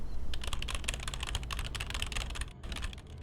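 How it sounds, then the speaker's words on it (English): Rapid, steady typing on a computer keyboard, close and clear, with dense clustered keystrokes running throughout and a brief pause near the end, no voices over it. "You're going to get to listen to the sounds of me typing"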